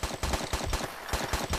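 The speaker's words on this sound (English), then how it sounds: "Oh, I hear gunfire." Rapid bursts of automatic gunfire from the video game Tomb Raider 3 at the Crash Site level, fairly loud and continuous, with several volleys rattling in quick succession and no talk over them.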